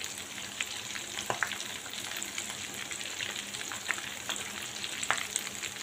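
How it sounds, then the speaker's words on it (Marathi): Green chillies fry in hot oil in a pan over a medium gas flame, making a faint, even crackling sizzle with scattered soft pops and a couple of light utensil taps. "आता मीडियम गॅसवर चांगल्या मिरच्या तळून घेऊया"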